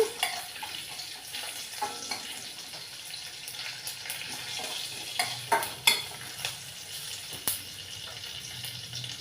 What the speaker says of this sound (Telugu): ఇది మినపప్పు ఆవాలు జీలకర్ర వేసాను ఇవి కొంచెం వేయించుకోవాలి